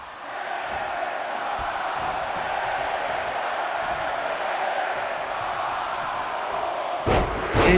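A wrestling neck breaker slam at the Spring Stampede pay-per-view lands as one sharp thud near the end, after a long, steady roar from the arena crowd.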